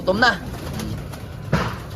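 Hungry racing pigeons coo close by in soft, throaty bursts, one at the start and another after a pause, with low murmuring in the background.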